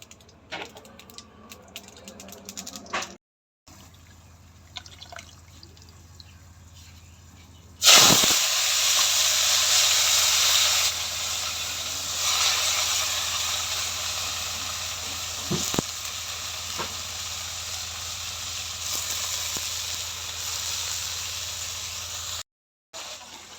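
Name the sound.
nigella seeds sizzling in hot oil in a wok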